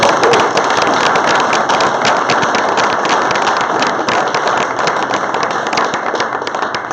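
Dense, loud applause from an audience at a weekly Rotary club meeting, a continuous crackle of many hands clapping at once that holds steady and tapers only slightly over several seconds.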